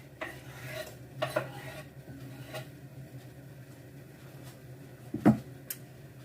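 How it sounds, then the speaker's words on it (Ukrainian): Soft clatter of cut vegetable pieces dropping into a bowl, with a few brief knocks and light kitchen handling sounds, no talking. "І складаю все в таку мисочку, щоб зручно було розмішати."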